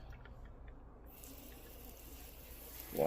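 Water is poured around the edges of a potted chilli plant, a soft, steady flow with a brighter splash right at the end.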